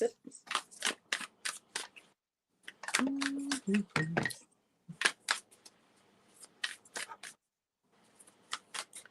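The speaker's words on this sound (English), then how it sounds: "I'm going to shuffle my deck" A tarot card deck is shuffled in rapid bursts of crisp riffling snaps, close and clear, broken by brief pauses, with someone speaking between the shuffles.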